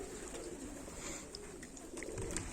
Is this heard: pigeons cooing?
yes